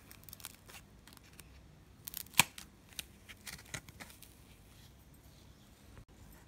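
Soft packaging foam disc being cut through its folded center with scissors, a run of crisp snips and small rustles close by, one sharper snip standing out, no talking.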